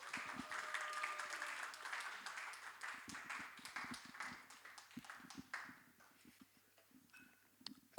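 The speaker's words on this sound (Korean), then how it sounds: "시열이 나올 때 격려의 박수 부탁드리겠습니다" A church youth congregation at a Sunday high-school service claps in encouragement, producing a soft, distant wash of many hands that thins and fades toward the end, with a few scattered louder claps near the close.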